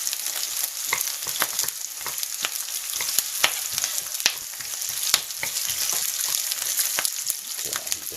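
Onions frying down in a hot pan for special fried rice, a steady crackling sizzle with frequent sharp pops and spatters, close and fairly loud, with no talking.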